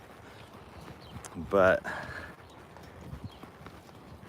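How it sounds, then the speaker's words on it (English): Horse hooves clip-clop briefly during a warm-up ride on a 1966 colt, a short burst of a few close steps amid quiet surroundings, with a voice briefly speaking. "it is a little hard to warm up the horse"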